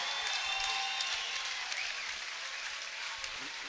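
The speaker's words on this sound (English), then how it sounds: "how about a loud round of applause for these two great fighters" A crowd at a cage fighting event applauds the two fighters, giving a continuous, fairly distant spread of clapping and cheering noise with faint tonal sounds in the hall.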